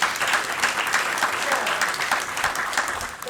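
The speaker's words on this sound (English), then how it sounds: "I feel that deserves a round of applause" Applause from a reunion panel audience, steady dense clapping filling the room at a constant level with a few voices mixed in, no one speaking over it.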